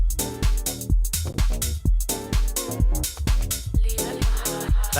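Synth part in an electronic music track, a bright rhythmic synth line over a punchy kick and bass, steady and loud with a driving pulse and no voices.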